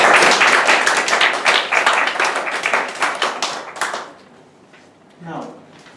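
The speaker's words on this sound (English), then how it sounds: "Let us start encouraging him by a thunderous round of applause." A Toastmasters meeting audience gives a speaker a dense round of clapping that fills the room for about four seconds, then fades out, followed by a brief spoken voice.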